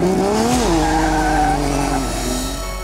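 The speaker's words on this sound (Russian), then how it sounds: "S15 Silvia на строкерном 2GZ, 850 лошадиных сил." Nissan S15 Silvia drift car with a stroked 2GZ engine making 850 horsepower, its engine wailing and pitching down while the tires skid in a sustained loud squeal, close and continuous.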